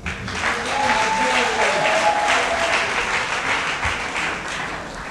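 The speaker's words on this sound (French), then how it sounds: "sous vos applaudissements" Applause from guests at a civil wedding ceremony at a town hall, steady, close clapping throughout with a voice speaking briefly over it.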